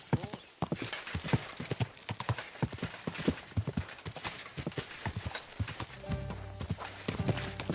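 Horse hooves clip-clopping at a steady walking pace, a long run of close, crisp hoof strikes, ending with a short whinny and some other noise near the end.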